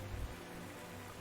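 Steady rain in the Panzer Corps 2 war game, a soft continuous hiss of falling drops with no talking over it.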